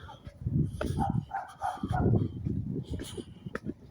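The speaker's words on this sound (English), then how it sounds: "There's a dog." A dog behind a fence gives a short run of barks and yips, moderately close, mixed with people talking nearby.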